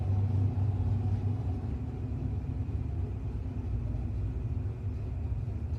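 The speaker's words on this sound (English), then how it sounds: "C.J. McCafferty back up in the 1988 Ford Mustang." Low, steady engine rumble from a 1988 Ford Mustang drag car at a no-box drag racing event, a continuous idling drone that stays fairly loud and unbroken throughout.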